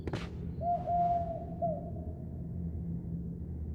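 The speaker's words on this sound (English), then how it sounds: "Seriously, I'm sure those owl noises are coming from that tiny little bird." A single owl hoot in The Siege and the Sandfox video game, a sustained tonal call heard over a low ambient rumble, with no talking.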